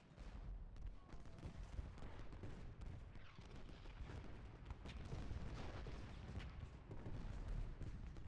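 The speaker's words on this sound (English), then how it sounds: "Real great if this artillery was shooting at someone" Artillery fire from a Civil War Gettysburg battle strategy game booms on and off against a constant rumbling battlefield din, faint and distant rather than close.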